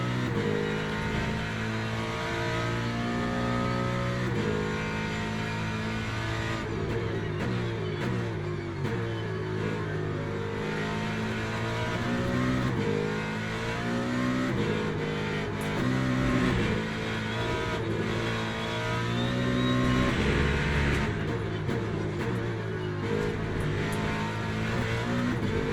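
Ford Mustang race car in the Le Mans Ultimate racing game, engine roaring loud and close, revving up and down through gear shifts with occasional tire squeal, no talking.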